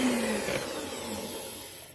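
An electric mixer whirs at high speed through lapis legit cake batter, a steady close motor drone with a brief pitch shift at the start, running alone without talk.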